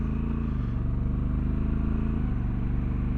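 A Honda Africa Twin with its DCT dual clutch transmission pulls onto a highway in drive mode, the engine note rising steadily and shifting smoothly, loud and close with a continuous rhythmic throb.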